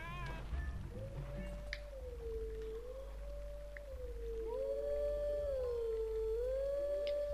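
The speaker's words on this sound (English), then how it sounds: "Let's do the howling." Wolf-form howling from Zelda Twilight Princess HD, a sustained tonal wavering howl that rises and falls in long sweeps, joined midway by a second higher layered melodic voice, steady and loud over a low ambient drone.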